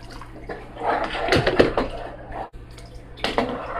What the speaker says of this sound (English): I'm going to go ahead and add about 2 cups of water